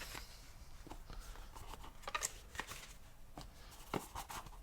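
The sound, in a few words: folding up paper card pieces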